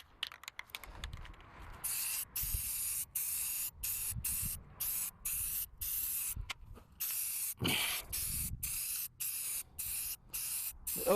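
Short bursts of hiss from a spray paint can coating a car bumper, repeated in a steady on-off rhythm of roughly one-second sprays, close and fairly loud with no talking.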